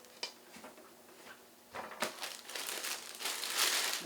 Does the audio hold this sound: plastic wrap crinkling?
yes